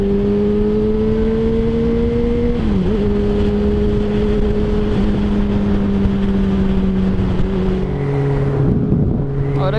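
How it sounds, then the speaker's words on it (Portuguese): Motorcycles, including a CBR600RR, Hornet, XT660, XJ6 and a 160cc bike, cruise along a road with a steady engine drone that shifts pitch as they change speed, loud and close throughout. "As motos na estrada."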